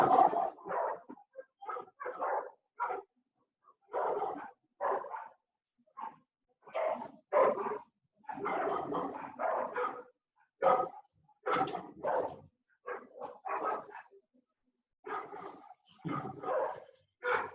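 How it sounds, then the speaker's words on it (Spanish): Dogs fighting and barking out in the street, a ragged run of overlapping barks, yips and growls in quick irregular bursts, fairly distant and heard alone. "Hay una pelea de perros en la calle."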